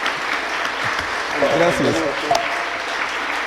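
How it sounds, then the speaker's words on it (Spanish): An audience at a musical talk breaks into a short burst of clapping, while a voice speaks briefly over the applause. "Un aplauso fuerte."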